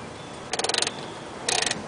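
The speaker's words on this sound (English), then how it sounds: "Do that on the oil pan and unscrew the drain plug counterclockwise." A car's oil pan drain plug turns under a ratcheting wrench in two short, quick bursts of rapid clicks, close and fairly crisp against a quiet background.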